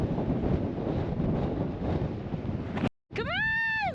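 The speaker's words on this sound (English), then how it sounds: "I'm so over this wind." Strong wind roars steadily against the microphone outdoors, then cuts out briefly before a high, wavering whine starts up.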